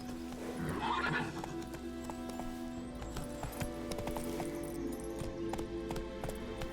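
Horse hooves clip-clop at a gallop in the video game The Witcher 3, a continuous rhythmic pounding with a loud neigh near the start, over a game ambience hum.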